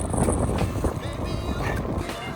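Steady, loud wind rumbling and buffeting against the microphone during a long-distance bicycle ride, a dense low roar with gusty fluctuations throughout, no clear speech.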